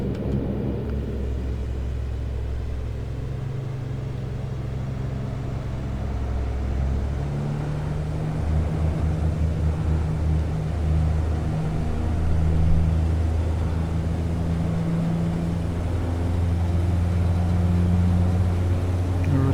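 A Saab 340 turboprop on its takeoff roll in X-Plane 11, with throttles near 70 percent, gives a loud continuous engine drone and rumble that stays steady over about twenty seconds, with no talking.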